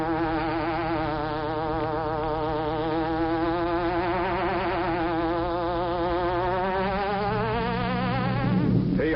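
Buzzing hornet effect opening the Green Hornet old-time radio show, a loud, sustained drone that wavers and slowly shifts in pitch across the whole stretch, with no voices over it.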